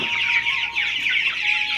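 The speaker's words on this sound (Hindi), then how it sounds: "ये देखो भाई, ये है वो मुर्गियाँ इनकी बात कर रहा था मैं दोपहर में।" Small young chickens, a flock of about a hundred, clucking and chirping steadily at close range in a hillside village coop, a continuous busy chatter without pauses.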